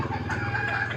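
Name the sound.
rooster crowing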